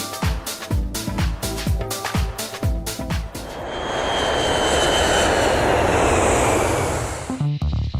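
An ATR 72-500 turboprop airliner with Hamilton propellers flies overhead, first with rhythmic pulsing thrums and then a loud, steady engine roar that swells and fades slightly toward the end.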